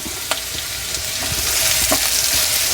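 Ingredients frying in a pan for jeera rice, a continuous soft sizzle growing slightly louder, broken by occasional light taps and stirring scrapes, close and without talk.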